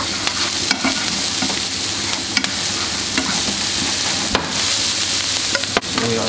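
Onion, garlic and thyme fry in a pan that just cooked shrimp, a loud, dense sizzle with scattered stirring clicks and scrapes.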